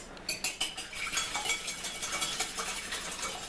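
Eggs are whisked in a bowl, with a fast run of light metallic clinks and rhythmic scraping close by, quicker at the start and then settling into a steady beat with no talking.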